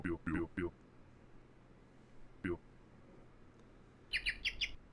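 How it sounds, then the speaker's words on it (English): A bird in a video game gives a quick run of four high chirps near the end, after a few bursts of other game sounds. "a bird is here"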